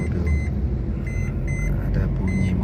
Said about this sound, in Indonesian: Ada bunyi mobil.